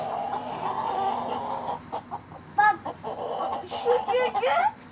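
Several caged chickens cluck and squawk in short irregular bursts over a steady low background hum, fairly close.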